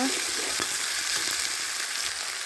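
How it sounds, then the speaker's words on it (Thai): Curry paste with shrimp paste and seasoning is stir-fried for spicy fried tilapia, making a continuous hissing sizzle with soft stirring scrapes, close and moderately loud, without voices. "ผัดเครื่องแกงกับกะปิลงไปก่อนนะคะ"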